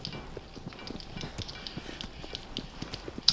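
Horse hooves galloping in the video game Shadow of the Colossus, a steady rapid run of soft thuds with faint scattered clicks, moderately quiet and with no one talking.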